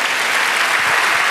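A church congregation breaks into steady, dense applause, a loud wash of clapping with no speech over it.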